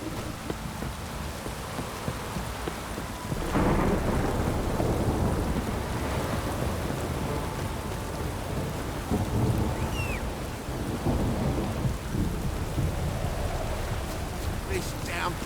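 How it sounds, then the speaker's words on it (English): Heavy downpour and rumbling thunder inside The Witcher 3: Wild Hunt game world, a steady loud wash of rain with deep low booms rolling through and a voice talking over parts of it. "This downpour's a bastard, it is."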